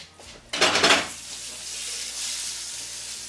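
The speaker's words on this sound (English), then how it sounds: "all that fat has now come out of the pancetta and it's starting to fry up" Pancetta frying in a pan as its rendered fat crackles, a loud burst of sizzle near the start settling into a steady, fairly close hiss with no talking.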